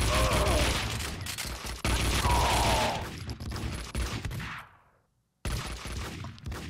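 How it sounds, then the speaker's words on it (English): Gunfire in Max Payne 2, bursts of loud close shooting with repeated volleys, then a fade to near silence before another burst resumes abruptly. "my guy's shooting people"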